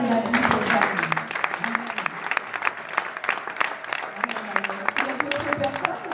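Church congregation applauding and clapping steadily throughout, a dense crowd of hands with some voices and talk mixed in underneath.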